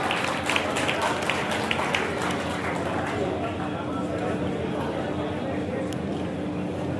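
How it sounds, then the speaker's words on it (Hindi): An audience at a Hindi book-launch literary event applauds a guest's arrival, a dense burst of clapping in the first few seconds that thins out into room murmur. "जोरदार तालियों से हार्दिक अभिनंदन कीजिएगा।"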